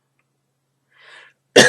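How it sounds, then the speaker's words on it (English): A single sharp cough, loud and close, bursts out at the very end after a faint breathy throat sound a moment earlier, otherwise near silence. "I don't normally cough during readings"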